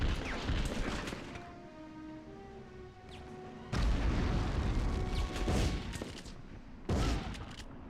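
Hand grenade explosions and gunfire in the Medal of Honor video game, with loud broadband blasts bursting in around 3.8 and 7 seconds over a steady rumbling battle din, no speech.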